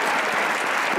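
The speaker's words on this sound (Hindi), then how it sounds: "उनके लिए तालियां होनी चाहिए।" Dense audience applause from a studio crowd on a comedy talk show, continuous and loud throughout with no gaps, filling the whole moment.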